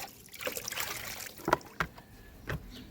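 Water poured into a small bowl set out for sparrows, a few short trickles and splashes in close succession outdoors, with no talk.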